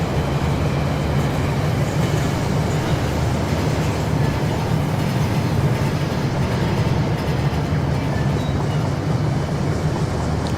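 A model train runs on a layout in the game Rolling Line, a continuous steady rumble and rolling drone with no breaks, fairly loud and alone.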